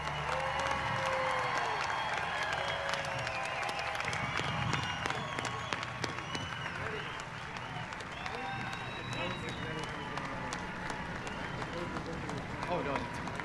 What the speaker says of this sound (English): Please join me in one last resounding applause for the class of 2021